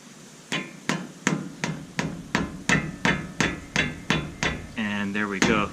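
A hammer taps a truck's ball joint loose during a DIY lift install, about a dozen sharp metallic strikes at a steady, even rhythm, close and loud, with a brief ringing hum near the end.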